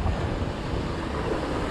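Continuous roar of ocean surf in Ventura County with rumbling waves and wind buffeting the microphone, loud and close, no voices.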